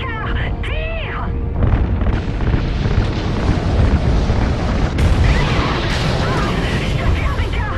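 Fuel lines blowing up in the Call of Duty Ghosts video game, a loud sustained roaring blast with rumbling debris and layered explosions, preceded by a brief synthetic tone, with game dialogue mixed in.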